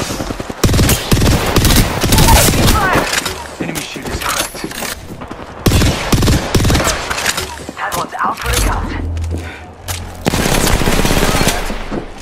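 Rapid automatic gunfire bursts ring out in the Apex Legends video game, loud and repeated in several volleys with short gaps, mixed with game effects and brief voices.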